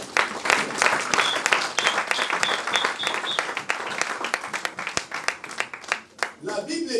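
Church congregation applauding, a dense burst of many hands clapping that fades and thins toward the end, with a voice speaking over it at the close.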